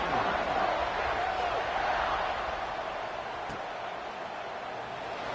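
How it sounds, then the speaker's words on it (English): A football stadium crowd at a Florida vs Ohio State game buzzes in a steady, dense roar of massed voices, loud and unbroken throughout with a slight easing toward the end. "this crowd is buzzing after that last score"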